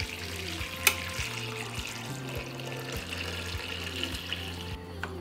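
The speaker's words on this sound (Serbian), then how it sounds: "Zatim ću u šerpu sipati toplu vodu." Warm water pours into a pot lined with a cloth and holding jars for pasteurization, a running, splashing stream at low level under a faint background tune.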